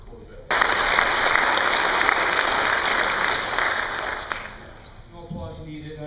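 An audience at a police academy graduation bursts into applause, which holds loud and steady for about four seconds, then fades out as a voice begins speaking.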